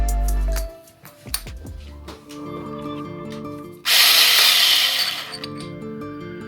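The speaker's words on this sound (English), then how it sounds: "let's drill some holes and see how it handles" Cordless drill with a brushless motor hacked into it, whirring in short bursts, then a loud sustained whine as it bores into the workpiece, with clicks and rattles between runs.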